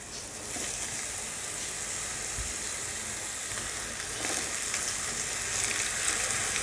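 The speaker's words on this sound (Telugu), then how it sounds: "ఇలా ఆయిల్ హీట్ అయ్యాక మనం ముందుగా ప్రిపేర్ చేసుకున్న కబాబ్స్ వేసేసుకోవటమే." Pineapple kebabs fry in hot oil in a pan, making a continuous bright sizzle with light crackles that grows slightly louder toward the end.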